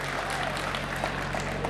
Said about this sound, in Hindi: एक बार ताली बजा के बता दो जरा जोरदार तरीके वाली।